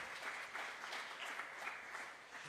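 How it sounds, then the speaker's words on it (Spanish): Applause from a church congregation during a Spanish-language sermon, a steady patter of many hands clapping for a couple of seconds, soft and somewhat distant. "Alguien que le dé un aplauso a Jesús."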